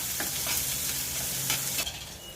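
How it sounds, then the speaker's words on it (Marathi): Onion sautéing in a pan with chilli pieces, a dense steady sizzle with a few stirring scrapes, close, easing off near the end. "आता हा कांदा घालूया आणि कांदा छान परतून घेऊया"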